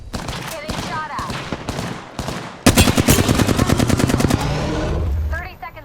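Gunfire in the video game Apex Legends: scattered shots at first, then a sudden loud, rapid automatic burst of evenly spaced rounds, close and sharp, fading out near the end.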